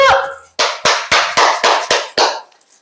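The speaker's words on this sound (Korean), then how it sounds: "왜 박수를 치죠?" Seven sharp hand claps in a quick, even rhythm follow a brief voice at the start, close and loud, with silence after the last clap.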